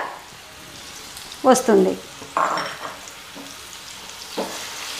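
Ginger garlic paste hits hot oil for a Telugu tamarind pickle, giving short bursts of sizzling and stirring over a faint background, with a few words spoken.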